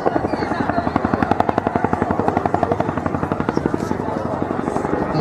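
A Chinook twin-rotor helicopter hovers and departs at an air show at Cosford, its loud, rapid rotor thump pulsing steadily and close throughout while an announcer talks over it.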